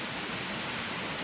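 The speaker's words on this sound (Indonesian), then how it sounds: "Ini hujan guys." Steady rain falls in Loro Jendres, a continuous dense hiss of drops on surfaces filling the short stretch with no voices.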